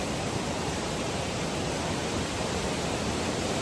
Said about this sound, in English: Not too far across, but man, that water's moving.